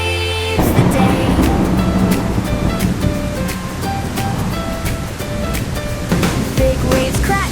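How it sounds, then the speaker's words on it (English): Big flood waves crash and surge in a 3D kids' cartoon, a loud continuous roar of rushing water with repeated swells, and no voices over it. "Big waves crash, the water is strong."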